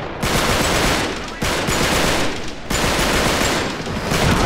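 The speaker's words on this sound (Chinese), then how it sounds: "他们开始在射，可以射他们吗？" Automatic weapons fire in an Uncharted 3 shootout, with dense, rapid bursts of shots that stay loud and continuous across several seconds, broken only by brief gaps.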